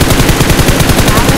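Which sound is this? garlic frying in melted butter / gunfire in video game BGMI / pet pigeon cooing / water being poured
gunfire in video game BGMI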